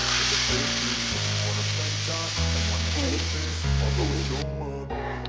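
Ghee tempering for bisibelebath hissing in a hot pan, a steady, loud sizzle that runs without a break under background music.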